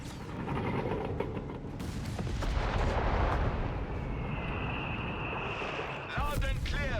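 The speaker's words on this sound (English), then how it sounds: "More explosions. More death." Heavy booming explosions and gunfire from Company of Heroes 3 rumble in a continuous barrage, with voices talking over the battle noise.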